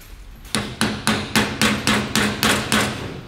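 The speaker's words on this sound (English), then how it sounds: "Okay, so I'm going to just tap this seal in." Eight evenly spaced, sharp hammer taps drive a seal into a trailer hub bearing bore, each strike close and loud with a short ringing decay.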